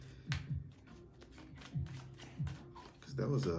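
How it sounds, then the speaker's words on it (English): Tarot cards being shuffled with soft riffling flicks, a few quick bursts under faint background noise, with a voice starting up at the end. "have to give these a good shuffle"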